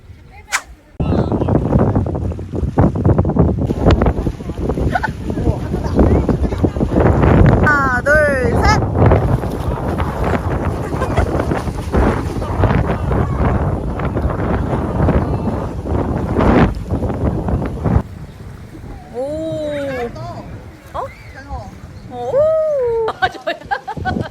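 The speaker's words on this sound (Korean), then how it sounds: "파도 조심." Ocean waves and wind on a rainy May day on Jeju Island, a loud continuous roar of wind and surf with buffeting microphone noise, followed by brief voices near the end.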